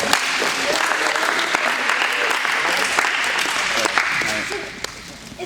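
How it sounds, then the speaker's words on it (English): An audience applauds after a durability demonstration of a bag at an ocean conservatory event, a steady round of clapping that stays loud and then tapers near the end. "Give a round of applause"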